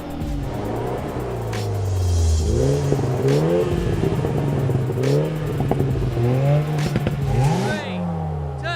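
Hot hatchbacks, a Polo GTI, Fiesta ST, Yaris GRMN, MINI JCW and 208 GTI, launch off the line in a drag race, engines revving hard through rising gear pulls, loud and close, with someone talking over them.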